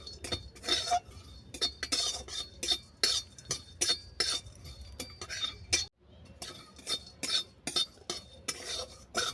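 Cardamom, cloves, cumin and other whole spices dry-roasting in a pan, stirred with a metal utensil in quick repeated scraping and clinking strokes, close and clear, with a brief pause partway through.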